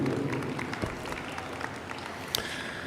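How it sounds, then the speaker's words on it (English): Audience clapping fills the arena at a heifer show during the National Western Stock Show, a steady wash of applause from a crowd with a few sharper claps standing out. "give yourselves a nice round of applause"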